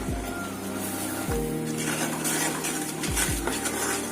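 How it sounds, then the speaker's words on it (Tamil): A spoon scrapes and clinks against a metal pot while thickening, boiling milk with sugar is stirred for palkova, with a few low knocks and a steady background rumble. "கைவிடாம நல்லா கலந்து விட்டுட்டே இருக்கணும்."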